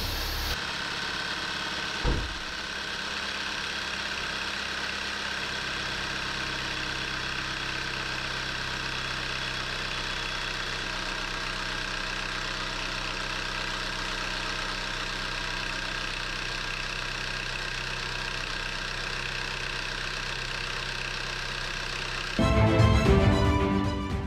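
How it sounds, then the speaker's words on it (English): A Volkswagen CC's engine idles steadily after an engine swap, a continuous even hum with a faint vibration throughout, ending in a brief louder rattle near the close. "So the car is running."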